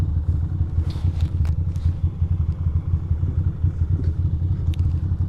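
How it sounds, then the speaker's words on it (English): A Ducati motorcycle rolls along with a low, steady engine rumble, and faint chain clatter and scraping sit under the drone while riding through city streets. "And my chain sounds good."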